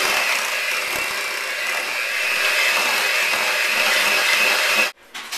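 An electric mixer whirs steadily while blending chives into mashed potatoes, a continuous motor drone that holds close and loud before cutting off abruptly near the end.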